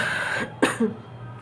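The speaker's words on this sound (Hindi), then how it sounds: "खांसी भी हो रही है थोड़ा थोड़ा" A single close, sharp cough followed by a softer throat sound, over a faint background hum.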